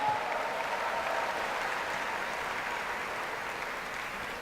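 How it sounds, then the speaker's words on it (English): Steady, sustained applause from a dinner audience at an awards banquet, applauding the waiting staff; dense clapping holds at an even level throughout with no speech over it. "I also want to ask that we would applaud the waiting staff"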